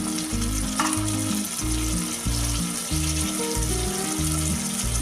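Onions already browned sizzle and fry in a pan as capsicum, tomato and carrot join them, a steady close crackle running the whole time beneath a rhythmic tonal background.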